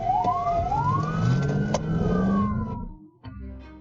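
A police car siren wails during a pursuit, its rising and falling tone loud and close over engine noise, then cutting out abruptly near the end.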